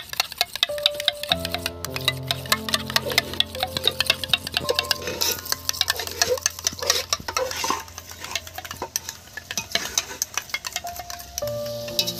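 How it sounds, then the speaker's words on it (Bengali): Sour yogurt (curd) whisked briskly in a bowl, a steady fast scraping and clicking rhythm that runs throughout, loud and close, with background music underneath. "দইটা ভালো করে ফেটে নিচ্ছি বন্ধুরা"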